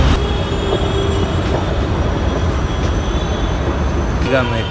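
A metro train at an underground metro station fills the space with a continuous heavy rumble and faint thin wheel squeals, close and loud, with a busy crowd in the background.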